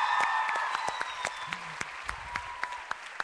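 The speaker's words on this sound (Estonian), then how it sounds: "Et ma paluksin, et te teeksite endale nüüd sama suure aplausi kui teile" Audience applause at an opening show event, scattered sharp claps that thin out into a few isolated, distinct hand claps, heard over a fading tonal background.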